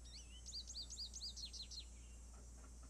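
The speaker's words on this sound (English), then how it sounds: "American goldfinch." An American goldfinch sings in a Nancy Drew video game, a quick run of bright, rising chirps repeated about eight times, faint and clear over a low steady hum.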